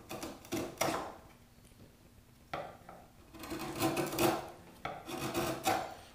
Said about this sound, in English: I'm going to use the thumb plane to get most of these tool marks off